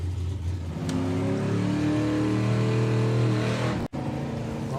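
A drag racing car at the Easter Nationals launches off the line with a loud, close engine roar that climbs steadily in pitch as it accelerates. A brief dropout comes near the end, then the roar carries on.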